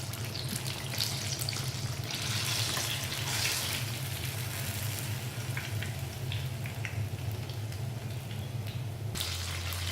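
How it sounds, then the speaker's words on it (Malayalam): Banana fritters frying in hot oil for Kerala-style pazham pori give off a steady close sizzle and bubbling hiss for the whole stretch, under a low hum with no speech. "ഇതുപോലെ തന്നെ ബാക്കിയുള്ളതും നമുക്ക് ഫ്രൈ ചെയ്തെടുക്കാം"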